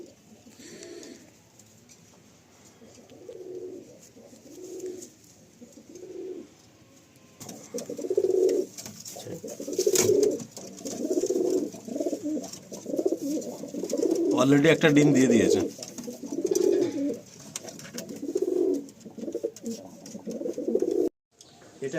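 Pigeons in a loft coo in soft repeated throaty pulses, near and moderately loud, with a paired female among them; someone talks over the cooing for much of the time.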